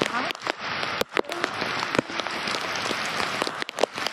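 Heavy rain falls at a beach resort on Pico de Loro, Hamilo Coast, a steady dense hiss with scattered sharp drop crackles, close and loud.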